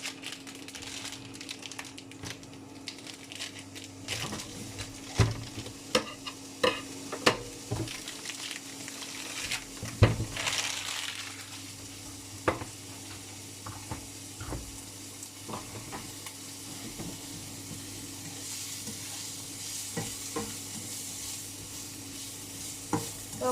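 Lardons frying in a pan for mini quiche lorraine, a steady sizzle broken by repeated scraping knocks as a utensil stirs them, fairly close and with no voices.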